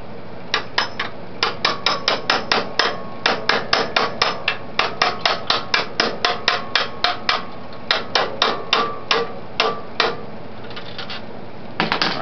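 A hammer taps a part into place on a St. Croix corn burning stove, delivering dozens of quick, sharp metallic knocks in short irregular runs, close and clear, with no speech.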